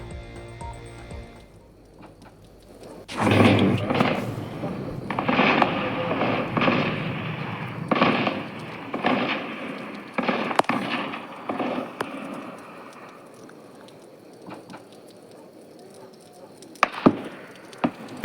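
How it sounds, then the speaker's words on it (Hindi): Intermittent gunfire during a militant attack on a residence in Rajouri, with sharp scattered cracks and bursts over a noisy outdoor background, some shots loud and close, others fainter. "अभी भी रुक रुक कर इस पूरे इलाके के अंदर गोलियों की आवाज़ सुनाई दे रही है"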